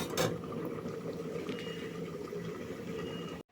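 Bottle gourd cooks in a covered pan, a soft, continuous bubbling and simmering hiss that runs steadily before cutting off abruptly at the end, with no voices over it.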